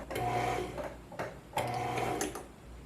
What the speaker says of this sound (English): you're going to put your foot on the foot pedal and press down